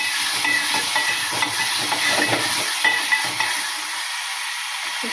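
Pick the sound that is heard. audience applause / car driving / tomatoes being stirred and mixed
tomatoes being stirred and mixed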